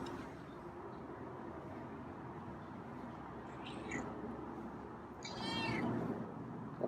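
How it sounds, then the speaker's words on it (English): Feral cat giving two raspy, hoarse meows, the second longer and stronger, outdoors over a steady low background rush. "Got some raspy meows today."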